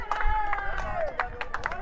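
Stadium crowd at a national senior athletics championship claps and cheers in a steady babble of support, under a commentator's voice and a sustained whistle-like tone.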